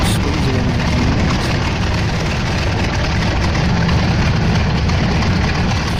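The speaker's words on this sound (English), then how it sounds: "the German engine is very, very good" Messerschmitt Bf 109 fighter aircraft piston engine, a Spanish-built variant, running at a steady loud drone with deep low rumble throughout, no talk over it.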